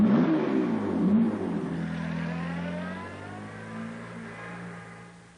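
A Jaguar sports car engine revs hard and then settles into a steady, fading drone, loud and close at first before easing away.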